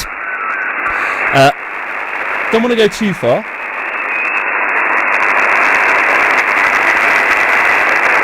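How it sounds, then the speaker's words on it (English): Amateur radio receiver tuned near 14.176 MHz, a steady loud hiss of band interference (QRM) filling the whole clip, with someone briefly talking over it early on. "Sadly, it sounds like there's a bit of QRM, so let's just adjust that a little bit."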